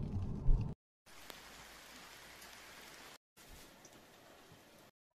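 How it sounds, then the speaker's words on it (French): Afternoon rain patters steadily on surfaces, a soft continuous hiss of drops broken by short gaps, with a louder rustle at the very start. "il est 4 h de l'après-midi, ça y est, il s'est mis à pleuvoir."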